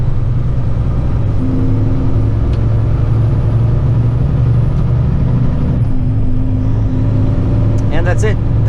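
Kenworth heavy truck accelerating on a four-lane freeway in Mississippi, a loud steady low engine drone with cab rumble throughout, rising slightly in pitch near the end.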